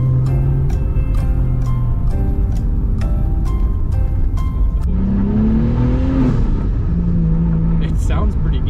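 A turbocharged Nissan R32 GTR engine idles and revs repeatedly as it warms up, its loud, close blips rising and falling with a steady rumble beneath. Short bursts of talk come between the revs.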